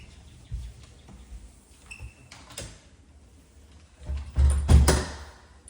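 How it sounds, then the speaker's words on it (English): A solid storm door being opened and closed at a house entry, with light handling clatter early on and a louder, heavier thump of the door swinging shut near the end, close by. "Solid feeling storm door."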